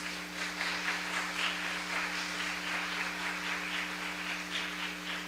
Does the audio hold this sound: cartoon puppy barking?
no